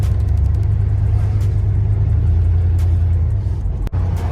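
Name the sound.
car engine with leaky exhaust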